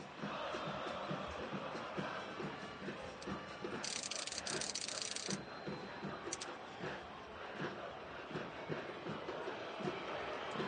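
A football stadium crowd at Estadio Caliente roars steadily throughout, a dense, continuous wall of noise with chanting and rhythmic surges, loud and sustained, with a sharp burst of whistling or noise around the middle.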